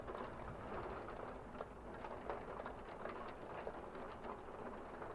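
Rain falls steadily outside a motel room, making a faint, continuous hiss with soft patter and small scattered taps throughout.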